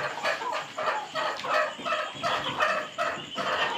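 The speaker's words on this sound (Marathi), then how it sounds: "ही पण गावठीच कोंबडी आहे, फक्त ही क्रॉस ब्रीडिंग आहे" A crossbred desi (gavthi) hen with feathered legs clucks in a steady rhythm of short, close, repeated clucks, with no talking.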